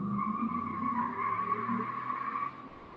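A car speeds past with tires skidding in a sustained squeal for a couple of seconds, fairly loud, then trailing off.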